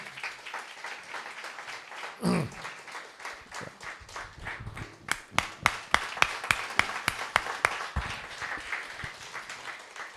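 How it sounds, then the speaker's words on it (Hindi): Audience applause at a Christian gathering builds from scattered claps into a run of sharp, rhythmic unison clapping, loud and close, after a brief bump and murmur early on. "या आप ताली बजा सकते हैं इनके लिए"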